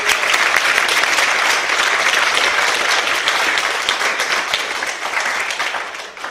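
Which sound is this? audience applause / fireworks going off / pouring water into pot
audience applause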